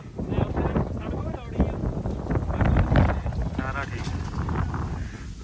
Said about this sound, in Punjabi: ਇੰਨੀ ਹਵਾ ਚੱਲਦੀ ਆ